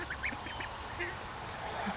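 Duck quacking in short bursts several times over a steady background, fairly close but not loud, with no talk.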